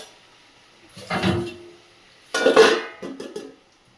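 A lid is set onto a cooking pot in a home kitchen, giving two separate clattering metal knocks with a short rattle after the second, close and fairly loud, with no talking.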